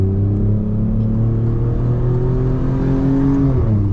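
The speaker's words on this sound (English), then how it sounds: "I love the sound though. It sounds really good because this engine is actually designed by Ferrari, and then they had 2 cylinders chopped off." Alfa Romeo Giulia Quadrifoglio with its Ferrari-designed engine accelerating, a loud steady mechanical drone rising gradually in pitch, heard from inside the car, with a brief dip near the end as if shifting gear.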